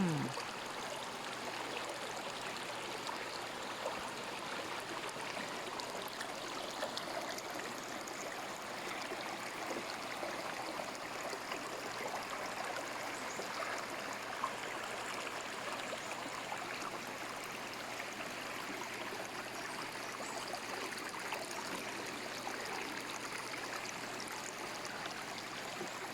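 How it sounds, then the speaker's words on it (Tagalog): A gentle river stream flows among large rocks, a steady broadband rush of water running continuously at moderate distance with no voices. "Pero banayag yung tubig"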